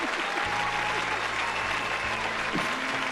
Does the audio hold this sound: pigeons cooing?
no